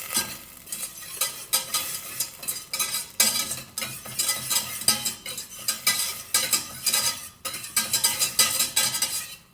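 Butter melting in a pan and stirred with a whisk gives off a close sizzle under quick, rhythmic scraping and clinking strokes of the whisk against the metal pan.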